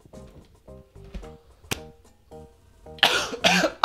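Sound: person coughing

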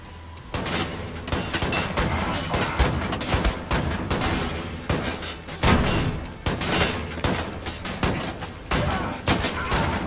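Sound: shotgun fire in Wolfenstein The New Order video game

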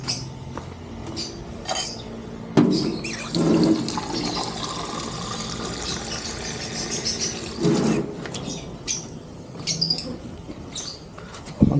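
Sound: water poured on tire

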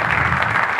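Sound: audience applause

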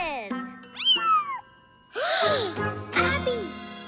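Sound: kitten meowing

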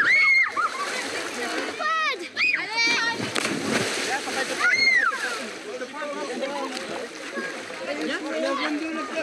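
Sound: child splashing in water in a backyard swimming pool

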